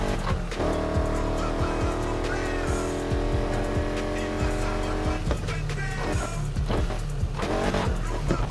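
A car in the racing game Need For Speed Heat drives and slides, its engine droning while tires squeal in long skids, loud and close with no voices.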